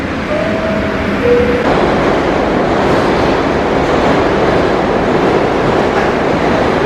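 Loud, steady rumble and roar of a moving New York City subway train heard from inside an empty car, with a brief tonal whine near the start.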